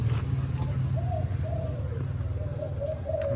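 Malaysian spotted doves coo in a series of soft, moderately close, rising-and-falling hoots over a steady low background hum, with no talk.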